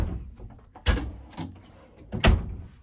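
Large drawers in the bedroom of a 2020 Carbon 348 toy hauler RV being opened and shut, three separate sliding thumps with soft rolling sounds in between, close by and unaccompanied by speech.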